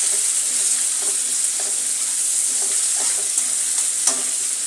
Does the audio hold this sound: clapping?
no